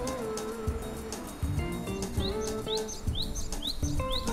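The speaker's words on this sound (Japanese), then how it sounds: "今頃シジュウカラは鳴き始めてるけど" Japanese tit (shijūkara) in bushes giving short chirps and rising tweets, faint and somewhat distant, with other soft chirping around it and no voices.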